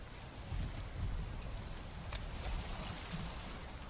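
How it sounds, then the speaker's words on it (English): Steady rain falls in the Valheim video game, a dense broadband wash with a low rumble and a few brief drop spikes, continuous and fairly quiet with no talk. "Of course, it's gonna rain."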